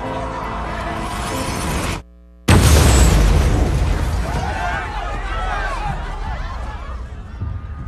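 An explosion at the Boston Marathon, with more than 27,000 runners taking part, bursts out loud and broadband after a brief dead silence, then settles into sustained chaotic noise with voices mixed in.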